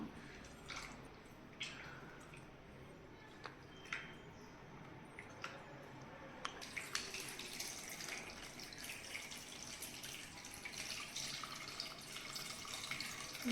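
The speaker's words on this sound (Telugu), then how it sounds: "చింతపండు పులుసు పోసుకుంటున్నాను" Tamarind juice is poured into a pan for a dried-fish and broad-bean curry, giving a steady wet trickle and pattering of liquid with a few drips, louder and fuller in the second half, with no talk.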